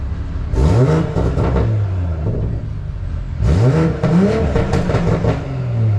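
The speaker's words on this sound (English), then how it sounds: "listen to my exhaust, man." A modified BMW M340 with over 500 hp revs up twice at night with rising whines and deep exhaust rumble, loud and close, settling back to idle between bursts.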